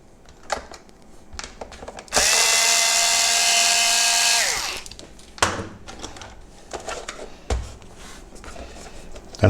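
A power screwdriver with a Torx 10 bit loosens screws on a 2000 VW T4 dashboard display, a loud steady whirring burst of about two seconds that winds down, surrounded by clicks and handling knocks.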